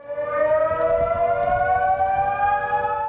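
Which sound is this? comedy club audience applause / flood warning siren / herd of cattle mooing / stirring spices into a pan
flood warning siren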